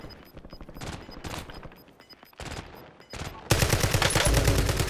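Rapid bursts of automatic gunfire crackle through a Call of Duty Black Ops 6 Warzone battle royale match, with scattered volleys early on building to a loud, sustained barrage near the end.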